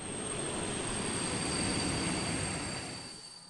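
A train in the video game Dialtown pulls into a station with a steady, loud rumble of wheels and rolling cars, a faint high whine running above it, easing off slightly at the end with no voices.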